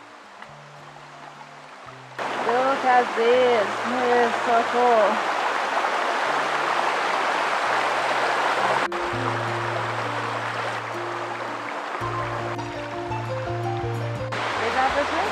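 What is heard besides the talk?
waterfall in Australia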